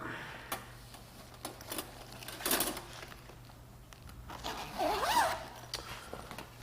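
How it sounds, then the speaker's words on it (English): A zipper being pulled shut on an auto entry tool bag, several short rasping runs with handling rustle, the longest zip near the end, close and fairly quiet. "Zip that back up."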